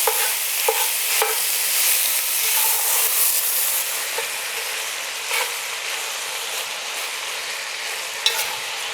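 Sausage meat browning in a pan for a bolognese sauce gives a steady, close frying sizzle and hiss, with occasional stirring scrapes and ticks.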